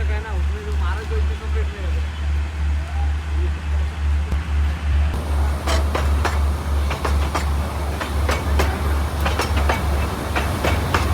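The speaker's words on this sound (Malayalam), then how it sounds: "അങ്ങനെ ഈ ടോയ് ട്രെയിൻ വന്നുകൊണ്ടിരിക്കുന്നുണ്ടോ" Matheran toy train on its narrow mountain railway track in Maharashtra, a low rhythmic rumble and regular clickety-clack that turns into louder, sharper wheel clatter and clanks midway, with voices faintly underneath.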